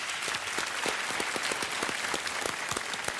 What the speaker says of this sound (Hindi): तालियों के साथ एक बार फिर इनका अभिनंदन